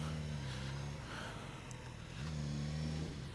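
A 2017 Suzuki GSX-S1000 motorcycle engine revs up loudly and steadily, easing off briefly in the middle before climbing again, heard close from the rider's position without speech.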